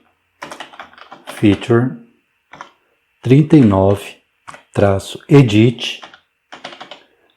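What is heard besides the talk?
typing a git command on a computer keyboard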